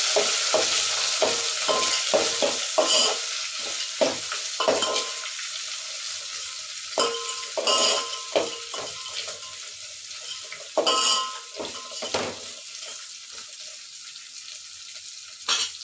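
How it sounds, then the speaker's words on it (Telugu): Green chillies are stirred in a pan, giving a run of scraping spoon strokes and light clinks over a soft sizzle that eases off partway through. "వీటన్నింటినీ మిక్స్ చేసుకోవాలి."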